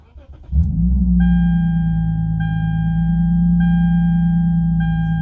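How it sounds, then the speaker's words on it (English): A Lexus IS250/IS350 from the 2006–2012 years cranks briefly and catches, then settles into a loud steady idle with a deep hum, while a dashboard chime beeps at regular intervals above it. "turn it off completely and then start your car"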